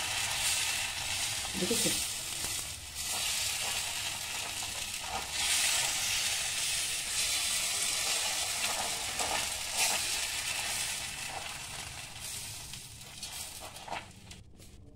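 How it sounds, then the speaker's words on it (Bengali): Bay leaves fry in hot oil with a steady close sizzle and occasional stirring scrapes, while a voice briefly speaks over it and the hiss eases toward the end. "তেজপাতা দিয়ে এটা আমি করছি"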